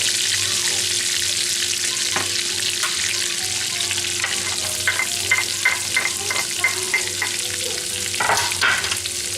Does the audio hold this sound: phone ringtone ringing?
no